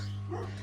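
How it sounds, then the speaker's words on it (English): A quick, sharp dog bark sounds over a steady low electrical hum. "That's my dog."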